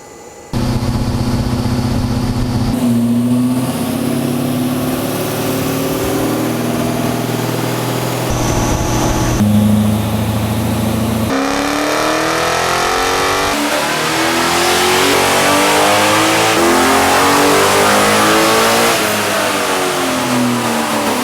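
A used 6-liter truck engine revs hard on a dynamometer, its loud, continuous roar climbing in pitch through repeated pulls toward high RPM, with shifting harmonic sweeps and no talking.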